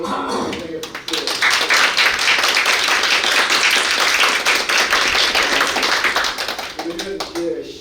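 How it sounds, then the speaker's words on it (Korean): Sustained applause from an academic policy forum audience at Seoul National University welcoming a professor, loud and steady for several seconds, with a speaking voice just before and after. "오늘 이제 우리 귀한 걸음을 하신 세근 교수님께 여러분 뜨거운 환영의 박수"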